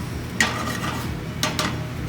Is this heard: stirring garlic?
yes